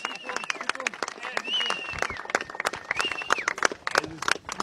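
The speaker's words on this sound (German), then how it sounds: "Und hier kommt Applaus jetzt mal." Studio audience applauding and cheering at a German TV game show, a steady wash of clapping with whoops and excited voices mixed in throughout.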